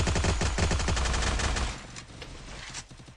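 Loud, rapid video-game gunfire with sniper shots: dense bursts rattle hard for about a second and a half, then thinner, quieter shots continue.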